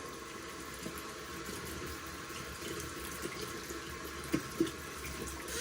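A razor is rinsed under a running tap: a faint, steady stream of water with a couple of soft taps of metal against the sink near the end.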